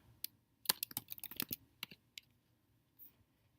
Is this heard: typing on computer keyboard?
yes